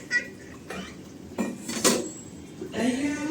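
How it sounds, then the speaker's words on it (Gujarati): Metal dishes and pots clatter and clink in several sharp bursts, close by, with scraping between them, as they are washed. "તો ચાલો ફટાફટ આપણે વાસણ ઉટકી નાખીએ"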